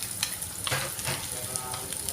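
Onions sizzle and crackle steadily in a hot pan, with a few clinks of a utensil stirring, no voices.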